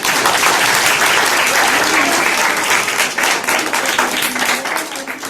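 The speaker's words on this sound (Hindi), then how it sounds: "हालेलुया, फिर से जोरदार तालियां।" Loud, enthusiastic applause fills a Sunday church service as the congregation claps hard in a dense burst that stays strong, then thins slightly toward the end.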